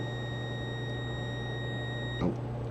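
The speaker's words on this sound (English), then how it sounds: "So you will get a beep like that." A digital multimeter on continuity test while a car amplifier is being repaired gives a short beep near the end, faint against a steady electrical hum and high whine.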